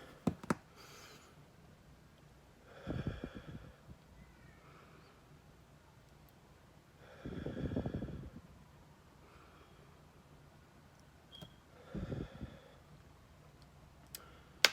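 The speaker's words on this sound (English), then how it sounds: "let me catch my breath for like 5 seconds" Heavy breathing while catching breath comes in three separate bursts of gasping exhalation a few seconds apart, close and fairly quiet, with faint clicks between them.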